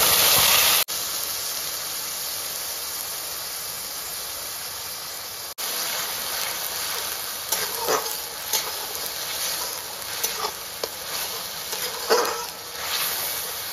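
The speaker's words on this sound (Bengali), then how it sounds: "এবার দিয়ে দিচ্ছি পেঁয়াজ বাটা।" Onion paste hitting hot oil already seasoned with cumin, bay leaf, cinnamon and cloves for chhola, giving a steady broad hiss and sizzle with a brief dip and crackling bursts as it settles, close and continuous without talk.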